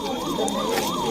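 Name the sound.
ambulance siren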